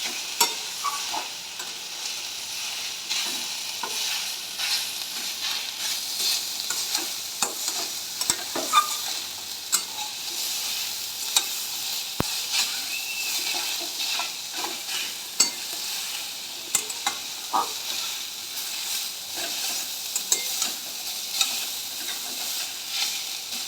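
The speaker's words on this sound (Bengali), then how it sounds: "লবণ ও হলুদ দিয়ে আবার এটাকে আমরা কিছুক্ষণ নাড়াচাড়া করবো" Banana stem stir-fried with salt and turmeric in a pan, a steady close sizzle under scattered scraping clicks of the spatula throughout, with no talking.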